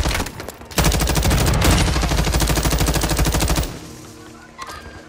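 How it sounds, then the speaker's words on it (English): A light machine gun fires in Call of Duty: Modern Warfare II as one loud, rapid automatic burst lasting about three seconds, then cuts off to quieter game ambience. "This light machine gun goes crazy."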